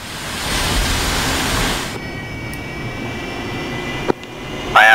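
A Harrier jet in DCS World flight simulation gives a steady roaring engine drone that fades slightly midway, with a brief sharp click near the end.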